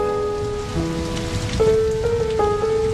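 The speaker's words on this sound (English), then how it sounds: "The next day, Napoleon came to see her in the driving rain." Heavy driving rain pours down in a dense, loud, steady hiss, with sustained musical tones sounding over it and growing stronger toward the end.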